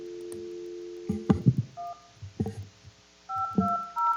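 Telephone keypad tones ring out in short bursts, with several clear beeps spaced unevenly and some overlapping muffled background noise in between.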